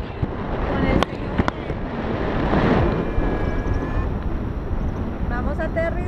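Broad, steady airliner engine roar fills a passenger cabin during the landing approach to Colombia, loud and continuous with a few sharp clicks and thumps, and people talking faintly underneath.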